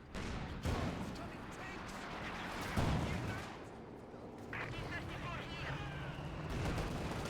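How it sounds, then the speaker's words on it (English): Muffled artillery-style booms and rumbling battle noise from a mortar shot in a competitive real-time strategy match, played under steady commentary from a caster. "Oh, nice mortar shot."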